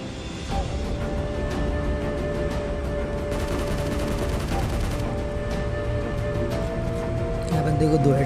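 AKM gunfire in a PUBG Mobile match rattles out in rapid bursts, with dense volleys mid-clip and scattered shots around them, under faint background game sound.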